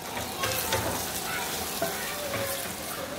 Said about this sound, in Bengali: গরম মশলা দিয়ে এই পেঁয়াজের সাথে ভেজে নিব।